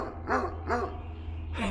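A scared little dog at a solo campsite gives three high, plaintive whimpers, each a short rising-and-falling whine, close by over a low steady hum.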